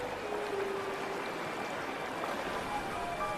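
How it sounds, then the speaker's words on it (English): A small snowmelt runoff stream flows in a steady, rushing babble of water, continuous and moderately close with no pauses. "Trickles of water become torrents."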